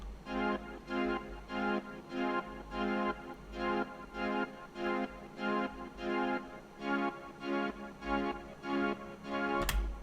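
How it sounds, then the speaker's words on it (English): Synthesizer chords serving as a vocoder carrier in a remake pulse in a steady, even rhythm, about a dozen bright, buzzy chord stabs with short gaps between them, played loud and alone. "We'll play the chords first, or the carrier signal, just sounds like this."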